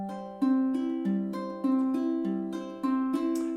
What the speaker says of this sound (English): We're going to do some good old-fashioned Travis picking.